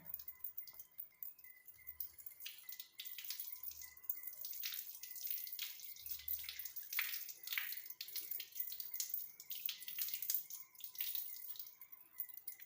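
Water runs and drips steadily in a sink while hair dye is rinsed off a hand, faint and close, with small splashes scattered through it.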